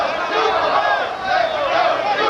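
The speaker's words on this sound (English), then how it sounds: "You can hear a crowd here, part of it, chanting Super Mo for Mo Hope." A boxing arena crowd cheers for fighter Maurice Hope during a bout against Wilfred Benitez, a loud continuous roar of massed voices that rises and falls throughout.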